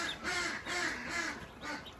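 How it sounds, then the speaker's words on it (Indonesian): Young ducklings being raised for meat quack in a lively, repeated series of nasal calls, close and fairly loud with brief pauses between bursts, no talking. "Oh, ini alhamdulillah bebek lincah-lincah."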